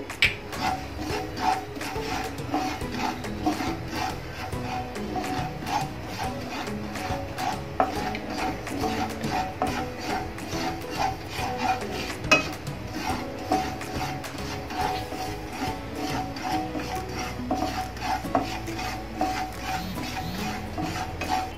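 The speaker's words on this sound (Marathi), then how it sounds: "इथे खसखस आपण कोरडी भाजून घेणार आहोत पहिले" Poppy seeds dry roasting in a pan, heard as continuous fine scraping and stirring against the metal with frequent light clinks, steady and close throughout.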